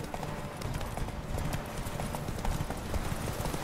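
A horse gallops in The Witcher 3 video game, a fast continuous rhythm of clip-clopping hooves heard close and steady throughout.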